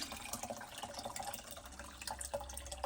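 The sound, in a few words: pouring water into a pitcher for sweet tea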